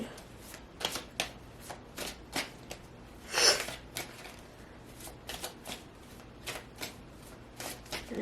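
Oracle cards are shuffled in a tarot reading, giving a string of crisp, rhythmic riffling flutters, one louder longer burst midway, up close and fairly quiet with no talk over them.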